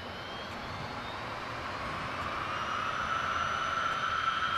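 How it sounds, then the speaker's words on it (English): A steady, loud jet dragster engine roar at a raceway builds gradually with a rising whine, close by and continuous, with no voices. "Final pass for the jet cars,"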